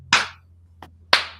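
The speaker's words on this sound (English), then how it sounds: "That's a slow clap." Three slow, spaced hand claps, the first and last sharp and loud, the middle one softer, over a low steady hum.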